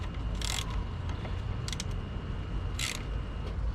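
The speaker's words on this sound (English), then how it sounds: "I'll go through and hand tighten them the rest of the way here" Ratcheting clicks in short bursts as the water pump bolts on a KX125 dirt bike are hand tightened, the bursts spread through the clip over a steady low background.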